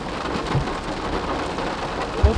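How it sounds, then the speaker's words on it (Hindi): Heavy rain pours down steadily during a night outing at Durga Puja, making a dense, continuous hiss close by, with a couple of low thumps near the end. "खतरनाक जोर से बारिश आ गया।"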